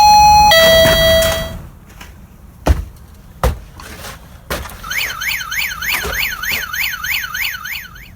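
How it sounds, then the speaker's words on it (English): A Kerui wireless PIR motion sensor door bell alarm chimes with ringing electronic tones, then, after a few clunks, sounds a rapid warbling siren that cycles loudly up and down. "just as you heard the alarm, you can put that in a location where if you want to be notified"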